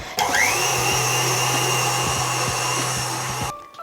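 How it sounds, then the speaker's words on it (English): A stand mixer whips Italian meringue on medium-high, giving a loud, steady motor whine that runs continuously and then cuts off abruptly near the end. "I'm gonna turn the mixer back on medium-high and just let it keep running and keep whipping"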